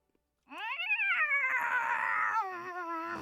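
A person's voice imitates a cat's meow with one long, drawn-out, wavering wail that rises, holds and trails downward, loud and close after a brief silence.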